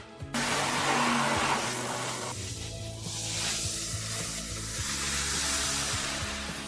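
A cutting tool slices through the rear of a car body being built into a retro car and Bugatti hybrid, a loud sustained hissing, sizzling rasp over a low steady hum.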